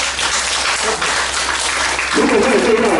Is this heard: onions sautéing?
no